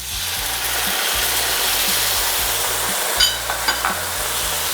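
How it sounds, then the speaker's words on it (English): Soy sauce and butter sizzle loudly with potatoes in a pan over high heat for a sticky garlicky Korean-style dish, a continuous, even crackle with a few brighter pops near the end and soft music underneath. "So we're just gonna let this like sizzle away for like 15 to 20 seconds on high heat."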